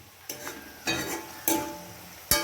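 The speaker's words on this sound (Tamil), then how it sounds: "தீயாமல் இப்படி கோல்டு கலரில் வர வரையும் கிண்டிக்கிட்டே இருக்கணும்." Onions fry in oil for a biryani, stirred until golden, four distinct scraping stirs of a spoon against the pan, each followed by a burst of close sizzling.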